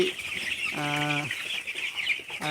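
Eleven-day-old broiler chicks on a farm give one clear, drawn-out peeping call with a second starting at the end, over a steady background hum and chatter of the flock.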